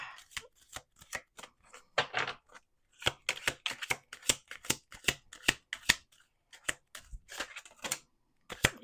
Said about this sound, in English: We're going to shuffle 2 more times.